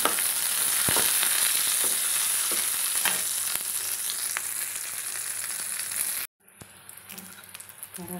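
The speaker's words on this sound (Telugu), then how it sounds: "మన పచ్చిమిరపకాయలు వేగుతున్నాయండి." Green chillies sizzle and spit in a hot pan with a bright, crackling hiss and small pops. The sound cuts off abruptly near the end and then returns more quietly.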